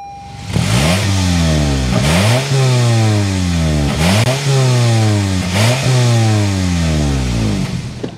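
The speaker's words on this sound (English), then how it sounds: "start up this 4-cylinder so you can hear that exhaust note" A 2023 Toyota Camry's four-cylinder engine revs up repeatedly, climbing in pitch and dropping back between four or five loud, close exhaust blips.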